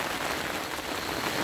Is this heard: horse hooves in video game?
no